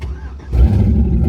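A Porsche 944 fitted with an LS1 V8 with a stuck-open exhaust cutout cranks briefly, then catches and bursts into a loud, deep idle rumble close by.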